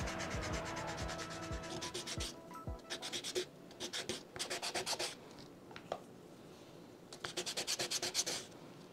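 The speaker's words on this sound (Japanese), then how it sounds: "これをサンドペーパーで、滑らかにしていきます。" A wooden prayer bead, carved with an Amida Buddha figure, is sanded smooth with sandpaper in quick rasping bursts of rubbing strokes, close and fairly loud, with no talk.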